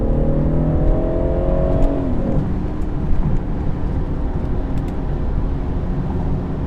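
A 2016 BMW 440i Cabriolet accelerates hard, its engine a loud, steady roar heard from inside the car, with rising tones early on and heavy road and wind rumble beneath.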